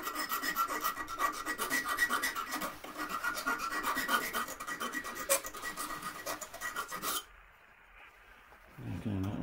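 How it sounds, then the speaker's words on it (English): Hand file rasping a plastic landing net spreader block while repairing its thread, a steady run of close scraping strokes for about seven seconds, then it stops and near-quiet follows with a brief low rumble at the end. "A little bit of filing"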